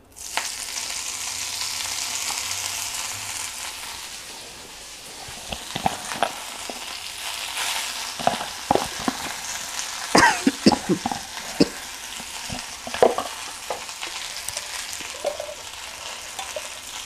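Fenugreek leaves sizzle in a hot pan for tomato chutney, a steady frying hiss broken after a few seconds by a scatter of sharp spatula scrapes and clinks as the greens are stirred.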